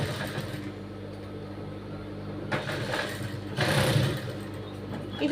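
A sewing machine stitching a blouse back neck runs with a steady motor hum. Short louder runs of stitching rise out of it near the middle. No voices are heard.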